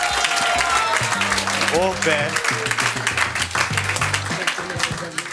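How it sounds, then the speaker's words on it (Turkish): An audience at a quiz night applauds continuously, a steady wash of clapping throughout, with a voice speaking over it. "Alkışlıyoruz F kareyi."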